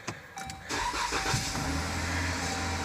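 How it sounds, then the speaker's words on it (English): A 2013 Jeep Grand Cherokee WK2 engine cranks briefly and catches, then settles into a steady, loud, close idle hum that continues on its own with no talk. "we're going to run the engine for about 5 or 10 minutes"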